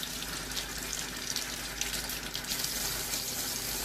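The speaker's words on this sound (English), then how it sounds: "First, you open the water and you put warm water." Warm water runs steadily from a tap into a sink for handwashing, a loud, continuous hiss and splash throughout with no speech over it.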